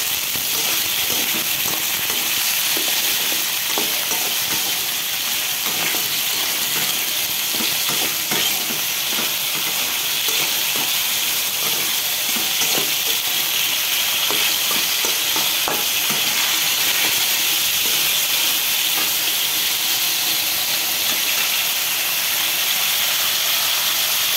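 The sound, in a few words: capsicum frying and being stirred in a pan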